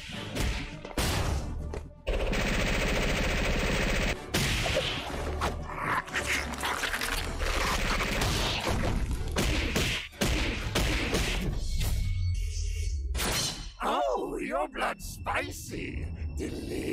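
Gunfire in an animated Death Battle fight, Venom versus Bane (Marvel vs DC): rapid, loud, close bursts of shots and heavy impacts run almost continuously, mixed with crashes, thuds and a score, with voices talking over parts of it.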